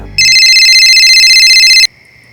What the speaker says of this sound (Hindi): उस रात अनुज का फिर फोन आया।